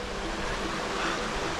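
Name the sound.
river water flowing in snowy woods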